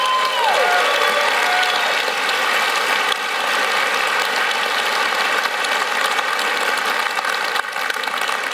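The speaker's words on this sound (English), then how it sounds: "Can I get a big round of applause" Dense, steady applause from a crowd at EVE Fanfest, a continuous wash of clapping that carries on evenly without letting up.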